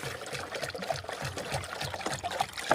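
Water poured into a basin for a water buffalo to drink, a close, uneven splashing trickle with gurgles running throughout.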